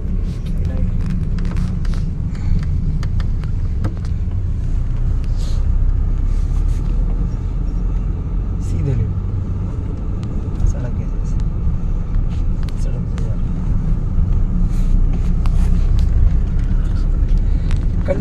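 Heavy road traffic in Aligarh: many cars and vehicles rumble past in a continuous loud wash of engine and tire noise, with people talking over it.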